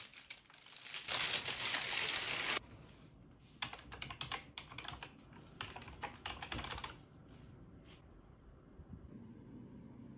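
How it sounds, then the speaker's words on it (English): Rapid typing on an IBM KB-8923 rubber dome computer keyboard, dense close-up key clatter in bursts with brief pauses, loudest early on and trailing off toward the end. "For a rubber dome keyboard, this feels surprisingly solid"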